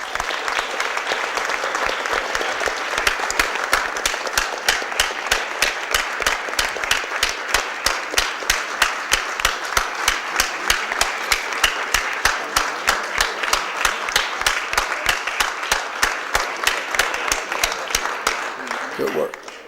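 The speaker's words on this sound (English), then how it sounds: "Let's give them all a big round of applause." An audience at a city council meeting gives a sustained round of applause, steady dense clapping that swells, holds for most of the stretch and trails off at the end.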